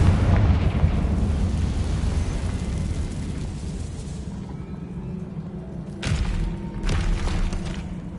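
Confringo fire spell from Hogwarts Legacy, blasting as a sustained rumbling roar that fades slightly, then two sharper bursts strike near the end.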